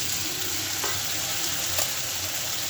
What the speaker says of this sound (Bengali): এখন ভালো করে একটু কষিয়ে নেব আলুটা